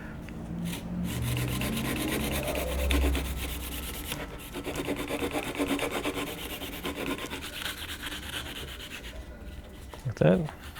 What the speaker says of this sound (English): So just cutting very quickly with this particular knife